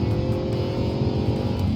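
A 2013 Audi RS5 engine pulls hard under acceleration, a loud, close, continuous growl with a rough burbling texture and no voices.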